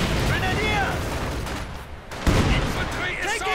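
Soviet gunfire in Company of Heroes 2 during a 1v1 match: dense crackling volleys and booming bursts, with a commentator's voice running over the shooting.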